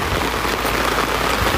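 Steady rain falls across an oil palm plantation in Selangor, Malaysia at night, a dense, even hiss of drops on surfaces that stays constant throughout, with no voices.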